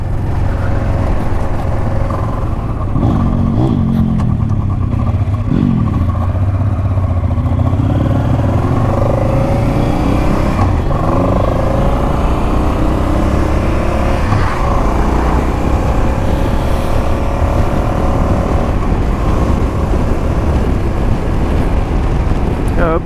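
A Honda Transalp XL700V motorcycle rides a dirt road on Sardinia, with a loud continuous engine drone and rushing wind noise throughout, a few rising and falling rev changes, and the rider talking faintly beneath it.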